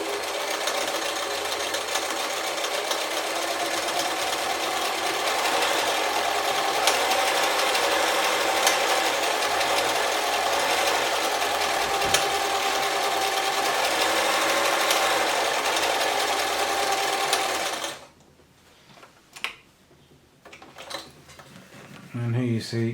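A German-made Singer 720 sewing machine stitches a dense satin stitch in a long, loud, steady whirring run close up, then stops abruptly, leaving a few clicks and handling sounds.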